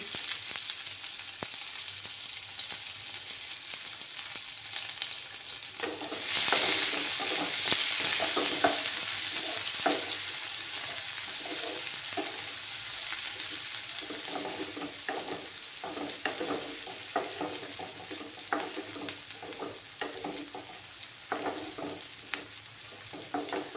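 Chopped onions fry in oil in a pan with cumin seeds, giving a steady close sizzle broken by scraping stirs, with a louder burst of crackle partway through.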